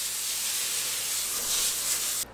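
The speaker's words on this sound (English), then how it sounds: "We're gonna spray some cooking oil." A steady, close spray of cooking oil onto a pan hisses for about two seconds, then cuts off abruptly.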